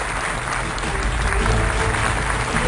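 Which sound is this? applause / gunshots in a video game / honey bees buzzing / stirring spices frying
applause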